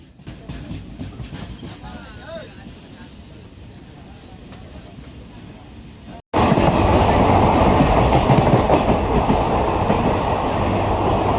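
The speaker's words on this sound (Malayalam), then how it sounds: "വീണ്ടും ഒരു ഗുഡ്സ് ട്രെയിൻ നമ്മളെ കടന്നു പോയിക്കൊണ്ടിരിക്കുകയാണ്" Rumbling, clattering train noise heard from a second-class passenger train between Pattambi and Kozhikode, Kerala, abruptly growing much louder midway as a goods train's freight cars pass close by, then continuing as a steady heavy roar.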